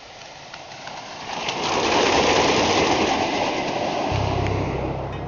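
The Beast wooden roller coaster train roars downhill into a valley, its rushing rumble swelling loud and holding steady as it rattles along the track.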